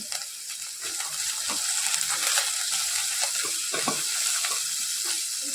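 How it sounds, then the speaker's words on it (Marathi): Mixed vegetables and spring onion stir-frying for crispy soya chilli, a moderate continuous sizzle with intermittent scraping and stirring clatter close by, no voices. "खूप जास्त फ्राय करायचं नाही जेणेकरून आपल्या भाज्या मऊ होणार नाही ती काळजी घ्यायची त्यानंतर थोडीशी कांद्याची पात घालून घेते"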